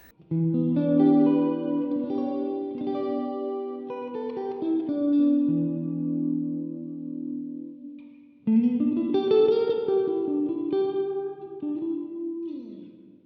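Clean electric guitar chords ring out through a chorus effect, shimmering, sustained and swirling, with a short pause before a second phrase starts.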